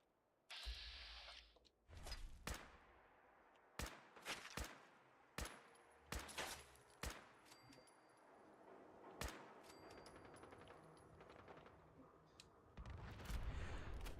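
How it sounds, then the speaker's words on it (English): A mini nuke explosion in the video game Fallout 4 plays out among a series of loud, sharp gunfire-like blasts and booming impacts, spaced unevenly over a faint background. The booms are followed by a rumbling swell at the end. "That definitely sounds like a mini nuke."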